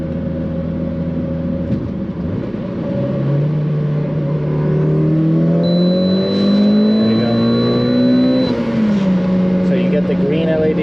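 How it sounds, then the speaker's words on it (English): A Mitsubishi Lancer Evolution 9 engine hums steadily close by amid passing traffic, its pitch rising and falling as it accelerates, with a faint voice underneath. "Got some traffic over here."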